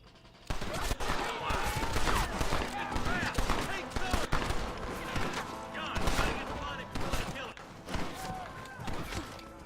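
Rapid gunfire from a shootout in Red Dead Redemption, dense overlapping shots and bursts after a brief quiet start, loud and near, continuing for the rest of the clip.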